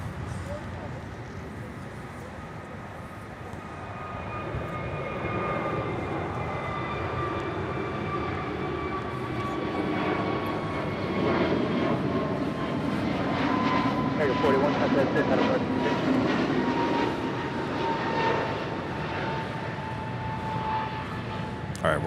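An Airbus A321 jet on flight 188 at Los Angeles International Airport makes a steady, continuous engine roar with a whining tone that swells gradually toward the middle. A faint voice may sit under the noise.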